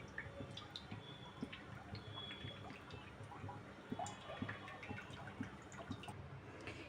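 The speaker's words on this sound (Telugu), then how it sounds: "ఇప్పుడు డీప్ ఫ్రైకి సరిపడా ఆయిల్ పోసుకుందాము" Cooking oil trickles into a pan for deep frying sorghum-flour janthikalu, a faint, steady pour with soft drips and liquid splashes in a quiet kitchen.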